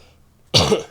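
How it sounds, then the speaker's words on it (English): A single sharp, close cough bursts out after a short near-silence, harsh and loud. "sorry everyone for all the coughs"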